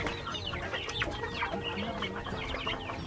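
Several chickens on a farm cluck and chatter continuously at close range, with overlapping calls and no talking.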